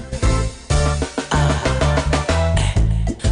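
A loud electronic music track with a pounding kick drum and dense synth layers pulsing in a steady beat.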